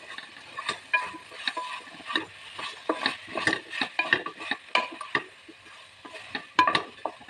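Drumstick biryani vegetables clatter and scrape as they're stirred in a pan, with irregular spoon strokes over a faint sizzle; no voices.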